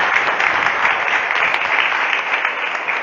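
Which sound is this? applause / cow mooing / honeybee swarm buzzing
applause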